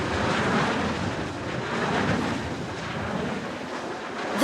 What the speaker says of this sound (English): they make a great swishing sound as they swish through the air